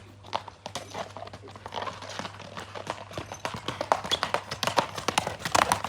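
Hooves of a fast-running horse clip-clop in quick, irregular beats that build louder toward the end, with a steady low hum underneath and no talking.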